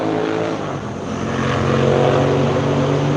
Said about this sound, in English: No, they're just trail bikes without exhaust pipes.